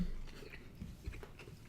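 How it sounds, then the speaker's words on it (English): Biting and chewing a crunchy Wunderbar chocolate bar, quiet close-up crunches and soft mastication over a low background. "There is a bit of a crunch."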